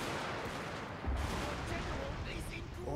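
Musketeers fire a volley in Shogun 2, heard as a dense, continuous crackle of distant massed gunfire with a low thump partway through, under a steady battlefield rumble.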